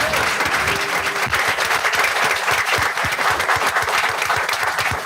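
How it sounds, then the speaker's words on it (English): An audience at a school board meeting applauds a scholarship recipient, a loud, dense and sustained round of clapping from a full room that stays steady for several seconds with no speech. "another big round of applause for Justin Gregory"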